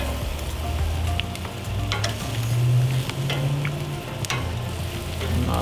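Steaks searing on a hot grill give off a steady, close sizzle with scattered crackles and pops, loud and continuous, with low rumbling underneath and no one talking.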